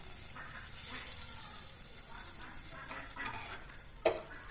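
A bay leaf sizzles in hot oil in a wok, a soft, steady frying hiss at low volume, with a faint clink near the end and no talk.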